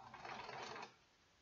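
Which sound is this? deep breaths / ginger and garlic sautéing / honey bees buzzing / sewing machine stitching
sewing machine stitching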